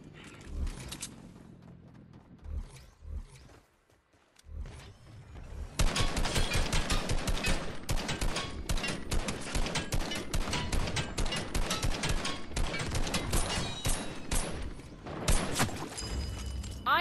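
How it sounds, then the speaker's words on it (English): Assault rifle gunfire in the Bed Wars video game, with sparse shots at first, then a dense, loud, continuous burst of rapid automatic fire over a steady game background. "There we go. An assault rifle."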